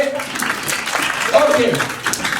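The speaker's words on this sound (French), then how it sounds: "on peut les applaudir s'il vous plaît" Wedding guests applauding the newlyweds: a burst of scattered hand-clapping from a crowd, mixed with voices talking and calling out nearby.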